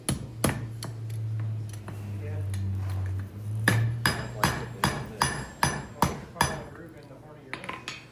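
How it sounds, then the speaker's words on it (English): A hammer forges a chain link on a stake anvil, landing a steady run of sharp, ringing metallic strikes close by after a stretch of low humming. "This chain that Scott's forging a link for right now"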